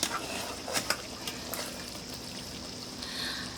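Chicken curry simmering in a pot over a backyard fire, a faint steady sizzle and bubbling with a few soft clinks, quiet and continuous.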